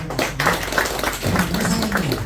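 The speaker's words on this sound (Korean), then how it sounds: "박수 한번 주시기 바랍니다." Villagers at a village assembly award ceremony clap for a resident receiving a prize, a sparse, moderately loud scattering of handclaps with a low hum and some murmuring underneath.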